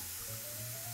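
Dry white Riesling wine poured into a hot pan of browned onions, a brief close hiss and sizzle with a steady liquid rush, no voices.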